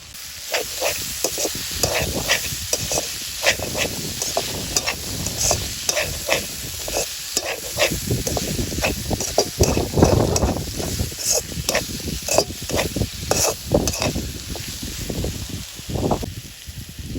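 Boiled, shredded stingray fish is stirred in a pan in a Jaffna village kitchen, giving busy repeated scrapes and rustling clatter over a soft sizzle, close and fairly loud throughout.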